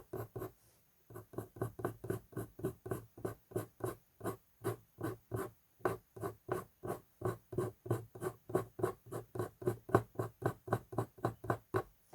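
Coloured pencil strokes scratch across paper in a fast, regular rhythm of short firm strokes, close and clear with no talking, while a lion drawing is shaded in.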